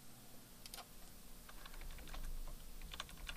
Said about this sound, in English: hit the Tab key on my keyboard